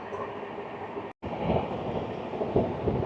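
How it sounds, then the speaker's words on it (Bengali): The Shantiniketan Express runs at top speed on the line toward Bardhaman, a steady close rumble and rush of wheels and wind with faint rhythmic clatter, broken by one brief dropout. "ট্রেন দেখছেন শান্তিনিকেতন এক্সপ্রেস, তার টপ স্পিড নিয়ে ঝড়ের গতিতে ছুটে চলেছে"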